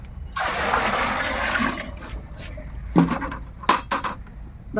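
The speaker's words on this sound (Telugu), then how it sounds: "కొంచెం వాటర్ వేద్దాం కలపడానికి ఇబ్బంది అవుతుంది" Water pours steadily into a vessel for a couple of seconds, followed by scraping and clinking as the contents are stirred, with a few sharper knocks.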